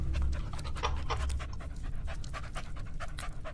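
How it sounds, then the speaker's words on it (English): A big black dog panting in quick, steady, rhythmic huffs, close and fairly loud, continuing throughout with no other sounds. "The big black dog stares at the Count in hope for some treats."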